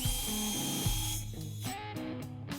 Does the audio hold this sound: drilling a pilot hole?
yes